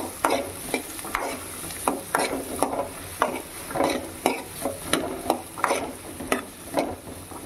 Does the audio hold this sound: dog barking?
no